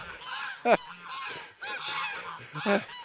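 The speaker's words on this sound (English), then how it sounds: "And they're the geese." Geese honk loudly in a farmhouse garden on an early morning, three sharp honks spaced across the moment with softer goose calls and chatter in between.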